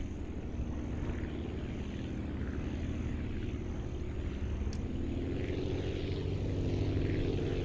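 Steady droning propeller airplane engine in the flight-building game Aviassembly, a continuous loud hum with rising and falling throttle, heard alone without talk.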